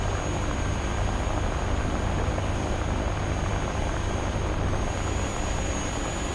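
Steady, loud engine roar heard from inside the cockpit of an FR-1 Fireball aircraft in the War Thunder game, a dense unbroken drone with a faint high whine that continues through the whole stretch, with no talking.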